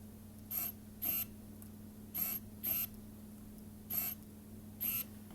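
Ricoh GR1 compact film camera autofocus, six brief faint whirs in pairs, close up over a low background hum, with no talking.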